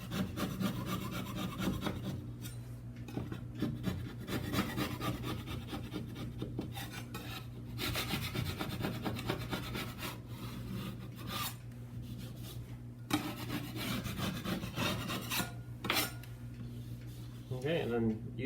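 A putty knife scrapes paint off a wall in repeated short rasping strokes with an irregular rhythm, close and clear, while a person talks intermittently.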